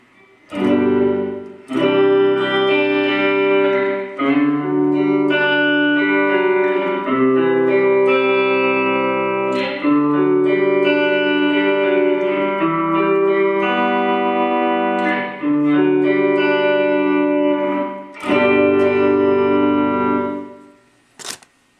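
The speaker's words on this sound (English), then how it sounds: "we're going to start on the room setting, and I'm going to turn the level all the way up so you're getting all reverb" A Mooer Shimverb reverb pedal on its room setting with the level fully up, so only reverb is heard: sustained chords ring out loud and thick in a washy room ambience, swelling and fading between changes, with no talking.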